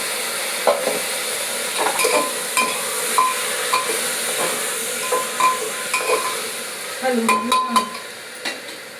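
Cauliflower, peas, potatoes, tomatoes and chillies sizzle steadily in a pressure cooker while a spoon stirs and scrapes against the metal in irregular knocks, loud and close, with no talking.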